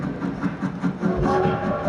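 A train running on a railroad plays as an effect in an outdoor light show, a steady rumbling clatter with tonal whistle-like lines rising in the second half, continuous and fairly loud.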